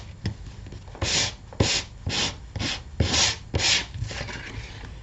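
Rhythmic hand sanding on a surface, about seven strokes of rasping friction in steady succession, close and moderately loud with no talking.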